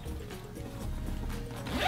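A zipper on a Condor Escape and Evade bag is pulled open in one continuous rasping run, close and fairly loud, ending in a brighter burst of teeth.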